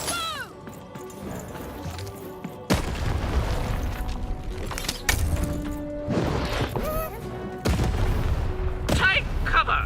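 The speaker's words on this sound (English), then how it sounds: "Shoot the button to fire the cannon." Cannons fire in a video game boss fight, several heavy booms and crashing blasts going off in bursts, with synthetic whooshes and ringing effects between them.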